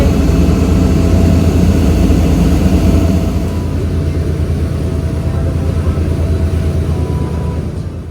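A boat engine drones loudly on a trip along the Amalfi coast, a heavy, low, continuous rumble with wind and water noise that holds steady for eight seconds and eases a little toward the end.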